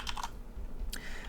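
Keyboard keys clatter in two short bursts of typing, separated by a brief pause, while PHP code is entered for a login form include path; close and moderately loud with no talking.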